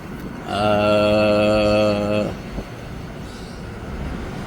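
A worn front wheel bearing on a 2000 Ford Ranger gives a loud, steady high-pitched harmonic whine that holds for under two seconds and then cuts off, leaving quieter background noise.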